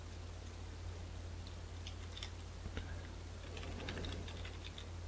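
Someone types a file name on a computer keyboard: faint, irregular clusters of light keystroke clicks over a low, steady hum, with no speech.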